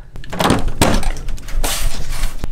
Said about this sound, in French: ça maintenant, c'est la porte de la cave